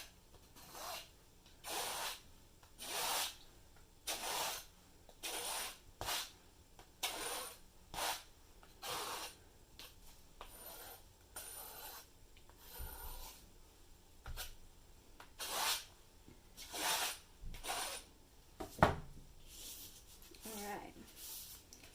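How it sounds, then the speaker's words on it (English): Acrylic paint being scraped off a painting's surface in a steady run of rough rasping strokes, each lasting about a second, close and fairly loud, with brief pauses between them. "I'm actually just going to take this painting and scrape it off."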